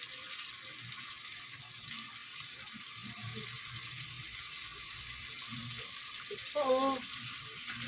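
Corned beef sizzles and fries in a pan at home, a steady crackling hiss with occasional stirring, while people talk nearby and a brief louder clatter comes near the end.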